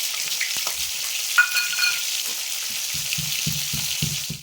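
Steady, loud sizzling of tilapia frying in hot oil fills the whole clip, with a few soft knocks and scrapes near the end.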